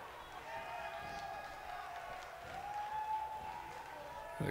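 A wrestling arena crowd in WWE 2K18 roars and murmurs steadily in the background, a continuous crowd wash with tonal hum, partly under speech.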